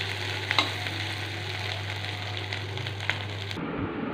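Scrambled egg, dimer jhuri bhaja, frying in a pan: a continuous close sizzle with a few sharp stirring clicks over a low steady hum, cutting off abruptly near the end.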